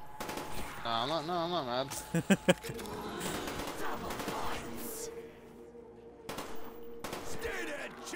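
Rapid bursts of automatic gunfire from a new weapon in Black Ops zombies crackle alongside an electronic warbling effect and other game sounds, while a person speaks briefly over the action.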